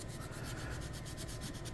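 A drill bit wrapped in paper towel rubs light bearing oil around the inside of a part from a Deltaforce 29 twin RC boat sunk in salt water, giving a steady, close scratchy rubbing with a regular back-and-forth pulse.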